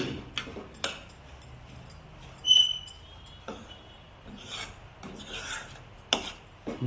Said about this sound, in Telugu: దీంట్లోనే రవ్వ ఫ్రై చేస్తాను చూడండి